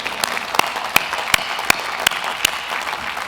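A few people clap at a university law school commencement ceremony. The claps are sparse and evenly spaced, fairly close, and last only a few seconds.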